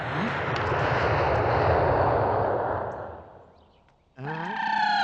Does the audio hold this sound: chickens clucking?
no